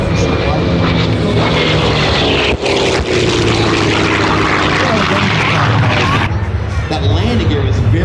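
Grumman F8F Bearcat piston warbird with a large propeller flying at a redwoods airshow, a loud sustained engine drone with a swelling pass, under a public-address announcer's voice.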